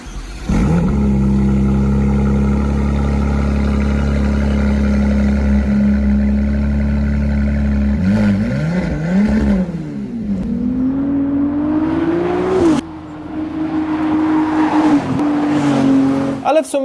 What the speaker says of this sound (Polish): sprawienie, by sześciocylindrowy silnik przepalał paliwo w taki sposób, by było to przyjemne dla ucha